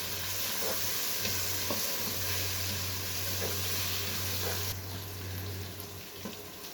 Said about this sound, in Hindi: इसे 1 मिनट तक हम अच्छी तरह फ्राई करेंगे।